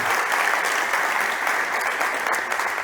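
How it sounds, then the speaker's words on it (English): A crowd at a startup competition applauds the judges steadily, a dense wash of clapping that holds at an even level throughout. "Big applause to our judges, please."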